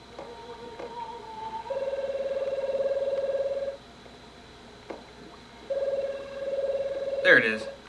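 Telephone dialing tones play in a video game on a Steam Deck, with two long steady tones separated by a pause and a short electronic blip near the end, and someone talks in between.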